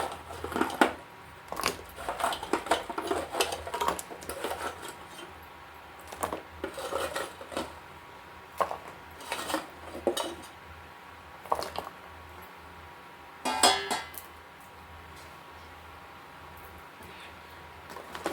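Jaggery being stirred into boiling milk in a metal pot, a spoon scraping and clinking against the sides in irregular bursts of close, moderately loud strokes with short pauses between.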